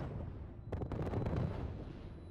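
LRM missile salvos and direct weapon fire in the mech combat game Mechwarrior Living Legends, heard as a dense rumbling barrage of explosions that swells into a heavier burst partway through and keeps rolling, with no talk.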